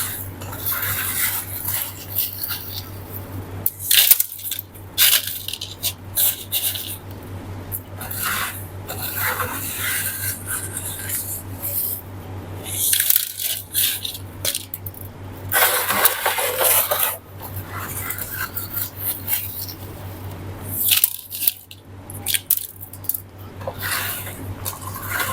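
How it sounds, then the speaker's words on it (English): Mineral PON substrate is scooped and poured into a plant container, giving repeated gritty rasping and rubbing pours with short pauses, close and fairly quiet. "you can just use any scoop to pour the PON into the container"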